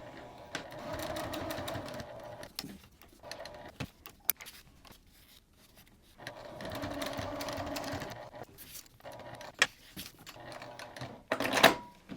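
A sewing machine stitches a fabric hip bag with a back stitch, running in two longer whirring bursts separated by pauses with small clicks and handling noises, close and fairly quiet.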